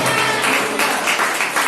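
A church congregation clapping together during worship, a dense, loud, steady wash of many hands with a slightly pulsing rhythm.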